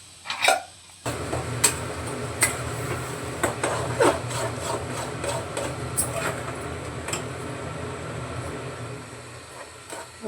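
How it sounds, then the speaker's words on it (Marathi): Mixer grinder running steadily, whirring and rattling as it grinds a cooked spice paste (vatan) with black pepper, loud and continuous after a brief start. "आता बस वाटण वाटून घेते आणि फोडणीला घालते"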